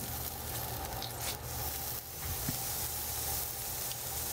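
Steak sears on a grill over high heat, giving a steady, faint, broadband sizzle and hiss with no talking.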